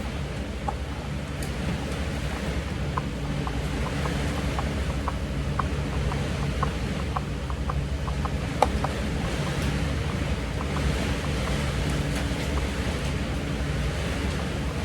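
Heavy steady rain roars throughout, with occasional sharp drips and taps rising out of the constant wash of noise.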